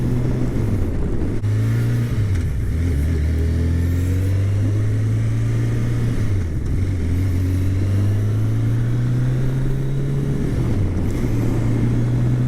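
Steady engine drone of a Kawasaki Concours ZG1000 sport touring motorcycle on the road, loud and continuous with pitch rising and dipping through gear changes, accompanied by constant wind rush.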